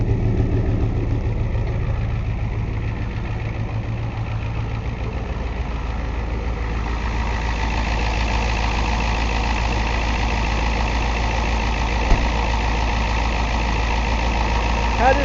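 A 1990 Ford F250 diesel pickup with a cold hard-starting problem idles steadily and close, a heavy low rumble that continues throughout while someone talks over it.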